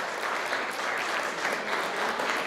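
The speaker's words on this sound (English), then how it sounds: "I would also request the audience to give him a huge round of applause" An audience applauds steadily as a guest is welcomed onto a stage, with dense, even clapping throughout and no talking.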